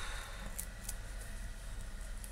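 Scissors snip through paper while crafting a scrapbook embellishment, a few short crisp cuts close up over a steady low background hum.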